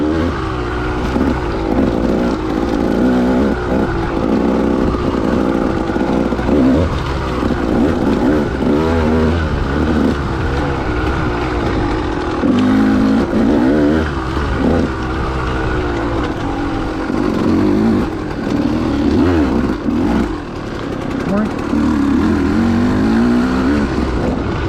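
A dirt bike accelerates along a fire road, its engine droning steadily and loudly with rising and falling revs and rough throttle surges throughout.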